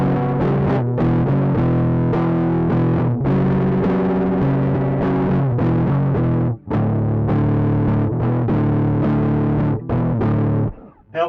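Electric guitar on a homemade mini Strat build, strummed through distortion and effects while switching among its pickup settings, loud sustained chords with brief pauses between passages.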